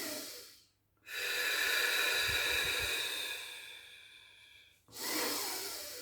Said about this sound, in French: on prend le temps de faire quelques inspirations